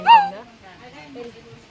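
A dog gives a sharp, high whimpering yip up close, followed by softer whining sounds mixed with nearby voices.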